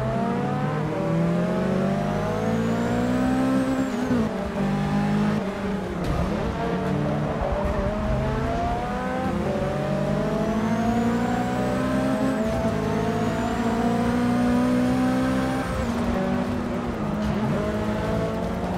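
Toyota 2014 race car engine in the video game Forza Motorsport 6, loud and continuous, revving up through gears in repeated rising sweeps with brief drops at shifts, alone without talk.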